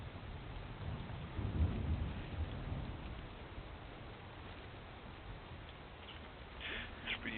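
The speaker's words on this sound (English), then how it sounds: "Hopefully the rain's not too loud." Steady rain hisses in a video game while a low, rumbling roll of thunder swells and fades early on, with faint small sounds near the end.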